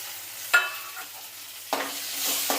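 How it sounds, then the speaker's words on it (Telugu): Cashews and green chillies fry in hot oil for a kaju masala paneer curry, a soft continuous sizzle broken by a few sharp stirring scrapes, close and with no talk. "జీడిపప్పు కూడా మంచిగా నూనెలో వేంపాలి."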